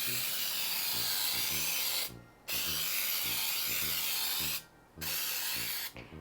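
Baker's Joy flour baking spray hisses into a cake pan in three close, loud bursts, two long and one shorter, each separated by a brief pause.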